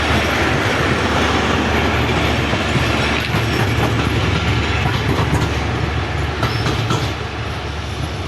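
Titumir Express, a long-running train hauled by two engines, pulls out of Chilahati railway station with a loud, close, continuous rumble and clickety-clack of wheels over rails that fades slightly at the end.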